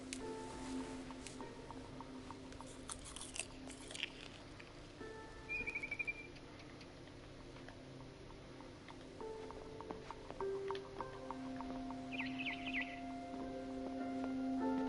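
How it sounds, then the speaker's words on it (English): Faint chirps of a barn swallow in the video game What Remains of Edith Finch, a few brief high calls scattered over soft rustling and a steady low background hum. "Then I heard chirping outside my window."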